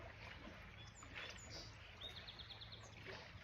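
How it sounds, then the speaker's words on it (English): Faint birds chirp in short high tweets over a quiet outdoor background hum. "Heard some birds chirping."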